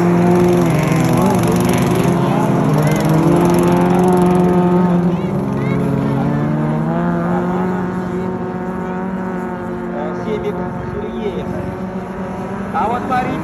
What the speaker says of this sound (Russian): Вот три гонщика, которые едут очень плотно, претендуя на первое, второе и третье место.